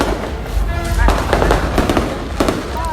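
New Year's Eve fireworks near a beach in Bali crackle and pop in quick scattered bursts against a busy crowd background, with people talking throughout.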